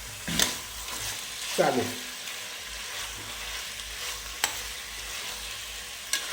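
Bone-in mutton pieces sizzle and fry in a hot pan while being stirred, cooking for Kolhapuri mutton pickle, with a couple of sharp scraping clatters and a brief spoken word in Marathi.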